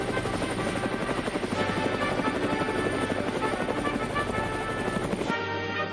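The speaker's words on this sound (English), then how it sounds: "the helicopter landed at the station" A loud, steady helicopter rotor thrum with dense mechanical whine, close by and continuous, cutting off abruptly near the end.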